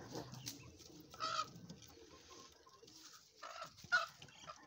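Pigeons in a rooftop loft, with scattered coos and wing flutters over faint background noise, including a couple of louder bursts near the middle and end; no talk.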